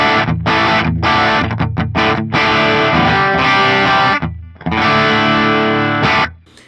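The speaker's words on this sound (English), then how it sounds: "I find these settings right here are great for me because you get a nice good crunch going on." An electric guitar on the bridge pickup plays crunchy, moderately distorted chords and riffs through an Axe-Fx III FET preamp, loud and sustained with brief pauses and a ringing fade at the end.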